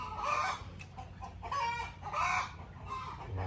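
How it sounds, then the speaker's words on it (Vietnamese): Chickens cluck loudly and repeatedly close by in a home setting, bursts of fowl calls coming in uneven waves with a rooster-like cry mixed in, no talk over them. "Chế chứ kêu mấy con gà nó im đi chứ."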